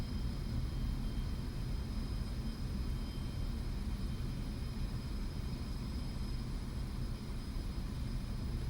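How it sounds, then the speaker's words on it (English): Steady, even roar of an aircraft touching down and aerobraking on landing in a flight simulator, a continuous broadband rush with a thin high whine running throughout and no talk. "Touchdown. Aero braking."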